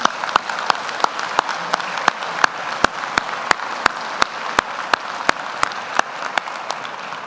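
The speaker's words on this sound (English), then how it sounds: "give a round of applause for our family and friends and boosters for one moment" Applause from the audience at the University of Vermont Patrick Leahy Honors College scholars recognition ceremony, honoring families, friends and boosters; steady, fairly close clapping with sharp individual claps standing out throughout.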